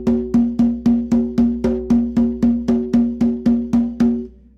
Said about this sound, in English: I took a traditional shamanic rhythm